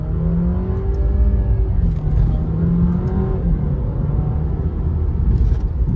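An Alfa Romeo Giulia with a 4-cylinder engine accelerates in first gear using paddle shifters, a loud steady engine drone rising in pitch, heard from inside the car.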